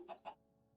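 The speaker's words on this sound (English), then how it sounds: "there's definitely chickens over here, which I can't stand the sound of chickens" Two quick, soft clucks from a chicken in the Minecraft video game, faint and close together, over a low steady background hum.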